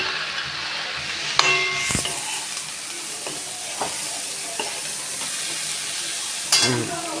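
Masala cowpeas sautéing in a pan, a steady broadband sizzle running throughout, broken by occasional sharp scrapes and knocks of the stirring spoon against the pan.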